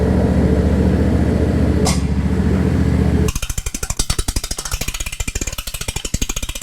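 A jack ratchets a lawn mower upward for an anti-scalping wheel axle swap: a steady mechanical drone gives way to a fast, even train of sharp, close clicks that runs to the end, with no talking.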